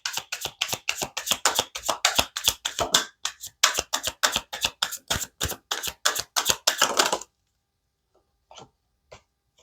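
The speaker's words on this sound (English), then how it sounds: "Let me grab a couple more cards." Tarot cards are shuffled and handled in a rapid run of sharp, close flicks and slaps for about seven seconds, then a brief silence and a few soft taps as cards are drawn.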